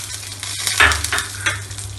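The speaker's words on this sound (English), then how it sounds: "I will saute all the ingredients in 1 spoon of oil." Urad dal, chana dal, garlic, ginger and red chili sautéing in a spoon of oil for chutney, giving a steady close sizzle with scraping stir strokes, no talking.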